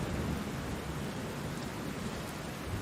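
Heavy rain and strong wind pour down in a dense, steady roar that fills the whole clip, loud and constant, with no voices.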